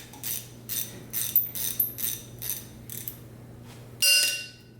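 A ratchet wrench and socket work a broken exhaust bolt loose on a Nissan 350Z with an LS swap: repeated quick clicking pulls in a steady rhythm, close up, then a sharper metallic clink at the end.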